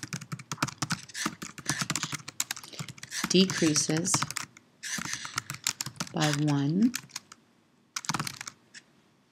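Rapid keyboard typing clatters throughout, close and uneven, while a person speaks over parts of it.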